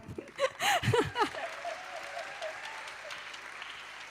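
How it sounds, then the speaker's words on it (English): Brief voices and chuckling open the moment, then a conference plenary audience on youth and climate breaks into soft, scattered applause that stays fairly faint and steady until the end. "Let's clap our hands."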